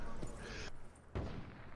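Two loud gunshot bursts boom in a Blackout battle royale video game, about a second apart, each a sharp crack trailing into a rumbling echo.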